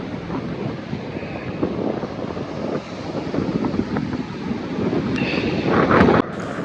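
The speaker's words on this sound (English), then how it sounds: "the wind is so strong it's picking up the sand and blowing it at me" Strong gusty wind roaring across an open Lake Erie beach at Headlands Beach State Park in Ohio, buffeting the microphone with loud, rumbling surges that build toward the end; no one speaks.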